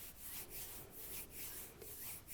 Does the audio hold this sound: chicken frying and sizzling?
no